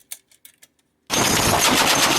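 A belt-fed machine gun sound effect cuts in after a few faint clicks and taps, then roars as a dense, loud, continuous burst of fire.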